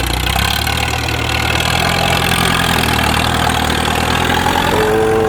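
A loud 4x4 truck engine runs steadily at a low rumble, with a slight rise in pitch near the end, close by and without speech.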